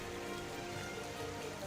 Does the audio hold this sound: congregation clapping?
no